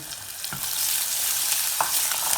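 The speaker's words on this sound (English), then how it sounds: "We can let that just gently kind of fry away, because what we're looking for is a little bit of colour on the onions." Onions frying gently in a pan as the base for a chicken korma, giving a steady close sizzle with a couple of brief clinks or stirs and no talking.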